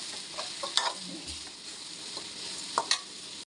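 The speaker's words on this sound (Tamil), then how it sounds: "தேவையான அளவு உப்பு சேர்த்துட்டு கொஞ்சமாக மஞ்சள் தூள் சேர்த்துக்கலாம் நல்லா கலந்து விடலாம்" Bottle gourd curry is stirred in a pan after salt and turmeric are added, giving soft scraping strokes over a faint, steady sizzle.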